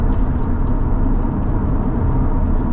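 A Chevy S10 pickup on cold pavement accelerates hard with both rear tires spinning, a loud, steady engine and road roar heard from inside the cab.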